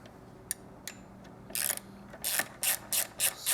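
A hex key and wrench tightening the exhaust nut on a British Customs Predator Pro slip-on exhaust for a Triumph Street motorcycle: a few sharp ticks, then repeated close bursts of rapid ratcheting clicks.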